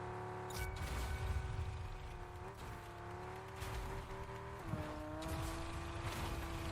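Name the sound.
car driving in a video game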